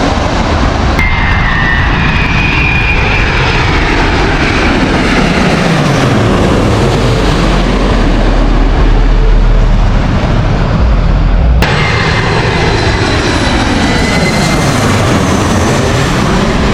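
Airliners passing over a plane spotting location in Los Angeles: a loud, swelling jet roar that builds and fades, with a rumbling low drone and a second pass starting toward the end, no talk.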